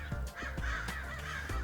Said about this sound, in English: There's a bunch of crows going crazy up there.